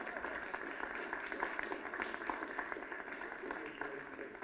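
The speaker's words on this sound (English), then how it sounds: "Please give all of our candidates a warm round of applause" An audience at a student union leadership race question time event claps for the candidates, a dense, continuous wash of applause from a crowd in a hall.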